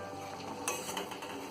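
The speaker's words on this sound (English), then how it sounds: "Now we are adding the soya chunks to the fried mixture we have." Soya chunks stirred into a fried biryani mixture in a pan, giving a soft continuous sizzle with light scraping and a few faint clinks, brief and close.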